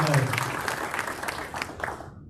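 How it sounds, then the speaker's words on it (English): A room of attendees at a Rotary club meeting gives a round of applause, a brief burst of clapping near the microphone that fades out, with a voice speaking over its start. "Let's give Peggy a big round of applause for her involvement."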